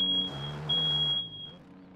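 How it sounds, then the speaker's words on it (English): A smoke alarm sounds inside a house, a steady high-pitched electronic tone that holds for about a second and a half over a low rumbling background, then cuts off. "Fire alarm in the house!"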